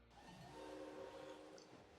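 Trains run on a Wild West Express line in the theme-park building game Planet Coaster, giving a faint, steady whistle-like tone over low rumbling for about two seconds, heard alone without talk.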